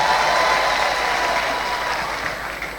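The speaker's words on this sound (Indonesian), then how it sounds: "Luar biasa, aplaus buat Anda semuanya." Audience applause fills a large hall at a business grand launch event, dense and steady clapping that starts loud and gradually thins and fades over a few seconds, with no voices over it.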